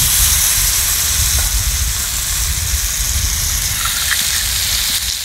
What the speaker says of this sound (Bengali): গোটা গরম মশলা দিয়ে দিচ্ছি। এবার এটাকে ভেজে নেব।